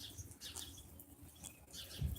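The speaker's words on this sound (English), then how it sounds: "don't know if you can hear the birds are going crazy" Small birds chirp and flutter outdoors during a late spring snowfall, with scattered high tweets coming and going at moderate distance over a quiet, muffled background.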